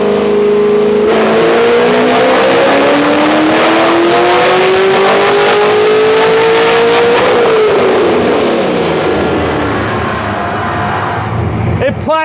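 A loud Chevrolet LS V8 engine in a Corvette or GTO revs up steadily on a dyno toward 7,000 RPM, pitch climbing for several seconds before dropping off and roaring on at high volume.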